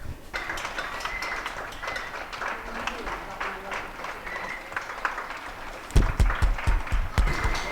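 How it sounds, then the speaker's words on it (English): Scattered clapping and distant cheering from neighbours outdoors along a residential road, clapping for carers, building into louder, denser applause toward the end. "you guys can hear that's everyone outside on my road clapping for carers"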